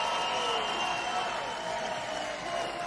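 A large crowd at a Trump rally roars and cheers in a sustained wash of noise, loud and steady for about three seconds, with no single voice standing out.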